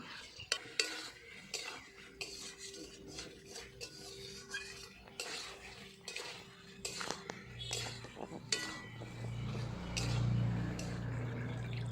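Elephant-foot yam sautéed with spices in a pan: soft stirring scrapes and clinks of a spoon on metal at close range, faint sizzling, and a low rumbling hiss building toward the end, with quiet murmured speech in places.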